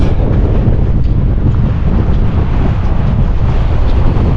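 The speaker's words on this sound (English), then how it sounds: "A lot of wind." Strong wind buffets the microphone on a snowy mountain trail, a continuous loud rushing roar with no voices.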